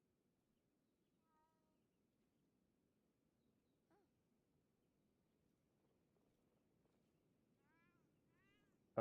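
Faint, high meows from the Meow Cannon in the video game Monster Hunter Wilds sound a few times over a quiet low hum, followed by an abrupt loud burst at the very end.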